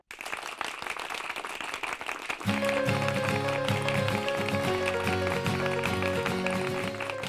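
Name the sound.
applause from audience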